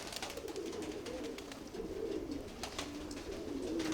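A pigeon coos softly in repeated low murmuring phrases, faint and somewhat distant, with light outdoor background noise and no talk.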